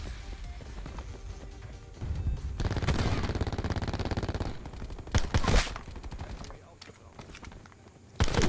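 Bursts of gunfire in the video game Black Ops 4, rapid automatic shots in loud volleys with quieter gaps between them and footsteps around them.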